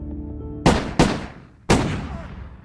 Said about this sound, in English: gunshots would shatter the peace and quiet of an Amityville night once again